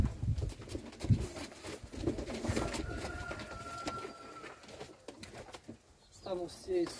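Czech yellow show pigeons coo and rustle near by while being unpacked from a crate into a new loft, with intermittent soft coos amid handling noises and someone speaking now and then.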